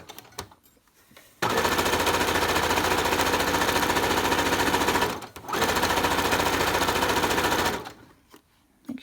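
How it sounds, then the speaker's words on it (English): A sewing machine stitches a ribbon skirt in two long, loud, rapid mechanical runs, broken by a brief pause, with quiet handling noises before and after. "Trying to like sew and record at the same time."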